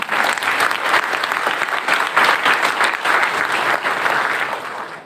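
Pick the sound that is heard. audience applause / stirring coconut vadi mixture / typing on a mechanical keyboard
audience applause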